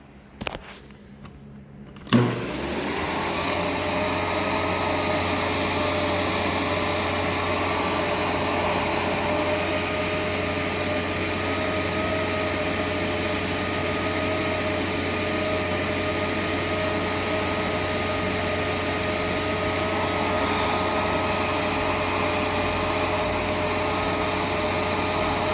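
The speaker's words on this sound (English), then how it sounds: "So we'll start off with the hose airflow" A Sharp Twin Energy EC-TU2609 vacuum cleaner, laid on its side with the hose attached for an airflow test, switches on after a brief clatter and then runs with a loud, steady motor whine and rushing air.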